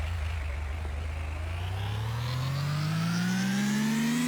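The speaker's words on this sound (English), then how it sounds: "So I'm just gonna rev it all the way up and watch what happens" A vehicle engine built in Gear Blocks revving steadily upward, its tone climbing smoothly in pitch over a few seconds with no talk.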